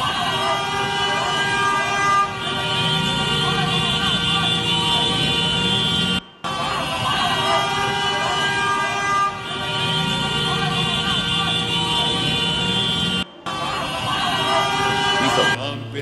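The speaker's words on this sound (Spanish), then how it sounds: "la gente empezó a pitar" Car horns honking on a city street in Colombia during a robbery, long sustained blasts repeated several times, loud and close, with traffic noise underneath.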